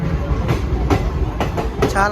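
Guntur–Rayagada express train pulling out of Sitanagaram station, a steady rumbling roll with rhythmic wheel clacks on the rails, close by and continuous, with a low voice now and then over it.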